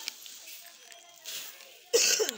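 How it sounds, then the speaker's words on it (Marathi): One sharp, close cough bursts out near the end, following a stretch of faint, muffled background voices. "खोकला"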